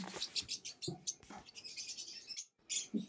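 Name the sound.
mutation lovebirds chirping at bird farm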